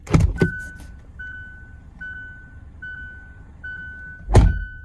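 A car's automatic gear shifter is moved from park into neutral, with a couple of sharp mechanical clunks at the start, then a steady repeating electronic chime pulsing about once a second, and another heavy thunk at the end.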